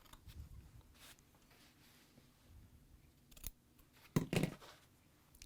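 Scissors trimming a fabric seam allowance while sewing; a few soft snips at close range, with a sharper double cut near the end in an otherwise quiet room.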